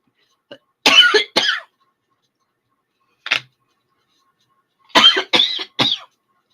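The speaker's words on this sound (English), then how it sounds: "I have a tickle in my throat, which made me cough." Several short, harsh coughs come in bursts close to the listener, a pair, then a single one, then three in quick succession, with silence between.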